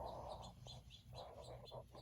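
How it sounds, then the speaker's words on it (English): Birds outdoors chirp and cluck faintly in a short, irregular series of calls, heard from a distance indoors. "I don't know if the video is picking up on those birds outside."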